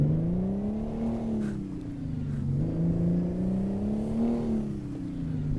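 A Peterbilt 351 in American Truck Simulator with a Detroit 6V-92 diesel drones steadily up close, its pitch rising and falling through gentle revs with a gritty two-stroke buzz, no talk over it.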